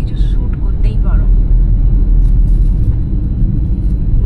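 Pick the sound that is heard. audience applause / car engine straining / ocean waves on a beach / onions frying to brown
car engine straining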